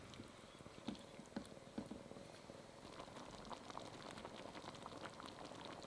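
Panang beef curry simmers gently in a pan, a faint, soft bubbling and patter with a few small pops early on, heard close and alone.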